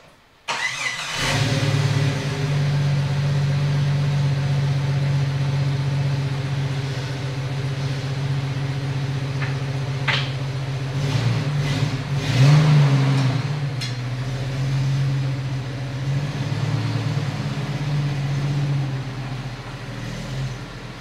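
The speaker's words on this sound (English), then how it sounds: "Take it for a little ride around the block, and I'll let you know how it feels." A Jeep YJ fitted with a JKS telescoping track bar starts up and idles steadily before driving around the block, its mid-pitched engine droning close and continuous with a few small revs and clunks.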